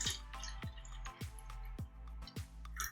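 Water poured into a cup in several short bursts, each a bright glugging splash with a rising tone, repeated about six times in quick succession up close.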